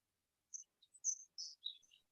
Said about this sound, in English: We can hear the birds too.